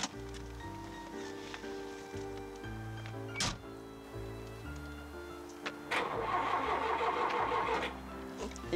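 A car engine cranks on its starter in repeated rhythmic bursts but fails to catch, a few close whirring churns broken by sharp clicks, ending in a louder rough burst.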